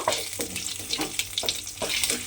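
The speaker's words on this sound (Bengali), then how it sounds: "কালো জিরে আর কাঁচা লঙ্কাটা দিয়ে একটু নেড়েচেড়ে ভেজে নেব।" Nigella seeds and a slit green chilli fry in hot oil and are stirred in a pan, with a close, steady sizzle broken by spoon scrapes and small crackles, and no talking.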